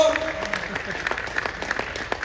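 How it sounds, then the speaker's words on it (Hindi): Audience clapping at a large poetry gathering held during a historic fair, a dense, steady round of applause with a faint voice briefly underneath. "मुझे तालियों से विदा करना बहुत आनंद आया"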